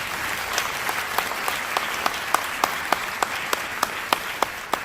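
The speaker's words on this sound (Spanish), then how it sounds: "Si va a aplaudir, aplauda para el Señor bien fuerte." A church congregation claps together in a steady, evenly spaced rhythm, sharp beats standing out over a soft wash of crowd noise.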